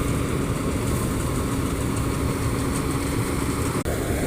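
A grain harvesting machine's engine runs in a village crop field, a loud, steady, close drone with a rough low rumble and no pauses.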